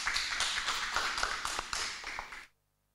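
Studio audience applauding for a singer on an Argentine cumbia music TV show, a dense burst of clapping that holds for over two seconds and then cuts off abruptly into silence.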